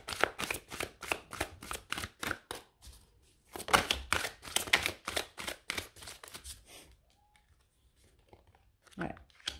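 Tarot cards are shuffled up close in quick bursts of riffling, papery flutters and slaps, separated by short pauses, with a faint voice murmuring near the end.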